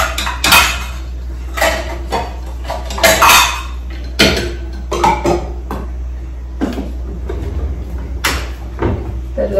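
A bowl of freshly kneaded bhatura dough being covered in a home kitchen, with a run of close, loud clatters and knocks of bowls, lids and utensils spread over several seconds.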